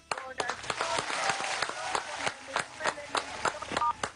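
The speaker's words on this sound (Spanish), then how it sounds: "Nicaragua, un aplauso de victoria." Audience clapping during a salsa music broadcast: sharp, distinct handclaps in a loose, uneven rhythm, fairly quiet and not very dense.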